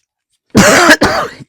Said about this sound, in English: Do excuse me, I've still got this irritating cough.